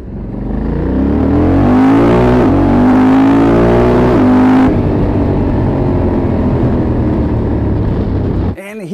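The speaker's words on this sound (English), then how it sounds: "it's hard for me to find justification for choosing a motorcycle with this gearbox, actually, unless you hear how it sounds when it's changing gears." A Honda Africa Twin 1100 DCT motorcycle accelerates hard, its loud engine note climbing in pitch, then dropping twice as the dual-clutch gearbox shifts up, before settling into a rougher roar and a quick blip at the end.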